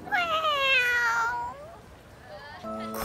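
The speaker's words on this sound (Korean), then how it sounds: "고양이네." A cat meows in a long, drawn-out cry, followed by quieter mewing and a brief voice near the end.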